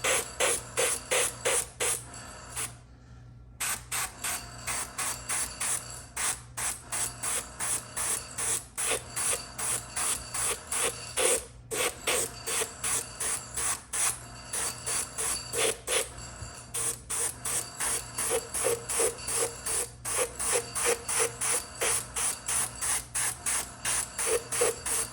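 A spray paint can hisses in rapid, regular bursts close up, laying down paint with overspray and pausing briefly now and then.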